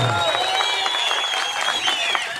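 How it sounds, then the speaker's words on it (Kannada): An audience applauds at a public speech at a Bhimotsava celebration, producing a brief, dense wash of clapping with crowd noise and some shrill tones over it. "ಒಳ್ಳೆ ಚಪ್ಪಾಳೆ"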